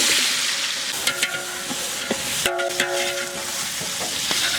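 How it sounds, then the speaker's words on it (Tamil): Two kilograms of chopped onions sautéing in hot oil with whole spices for a spicy duck curry, a loud dense sizzle with sharp scrapes and clanks of a ladle stirring a large pot, no voices. "கட் பண்ணி வச்ச 2 கிலோ வெங்காயம் சேர்த்துக்கலாம்."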